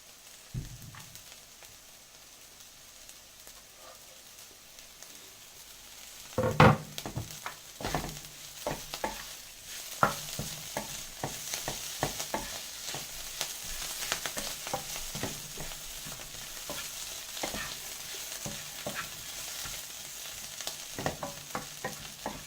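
Prawns sautéing in a pan for a prawn fry, with a steady sizzle and repeated scraping stirs that grow busier and louder partway through, close up with no talking.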